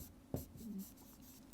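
Chalk or pen writing a chemistry equation on a board, a short scratchy stroke followed by a few faint taps and scrapes, brief and close.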